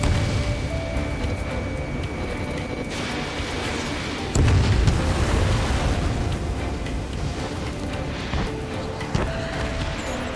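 A missile striking its target in Ace Combat 7, a deep rumbling blast swelling midway through a steady roar of jet engine and combat noise, sustained and loud with no clear break.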